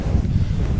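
A headwind rushes against the microphone of someone walking outdoors in nature, giving a brief, constant low rumble.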